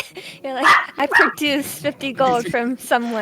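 A man imitates a dog with a run of barks and yips mixed with his voice, loud and close; the barking sounds come in quick bursts between bits of speech during a tabletop role-playing game session.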